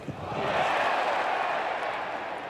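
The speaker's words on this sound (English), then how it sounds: "Crowd certainly getting very involved here" Dense roar of a cricket crowd cheering and shouting at an Australia versus South Africa Test match, rising quickly and holding loud and steady with no clear single voices.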